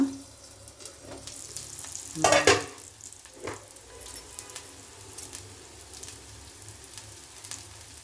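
Mixed rotti fries in a little oil on a pan, giving a soft, steady sizzle. A brief scraping stir comes through near the start, and a few light taps and clicks follow.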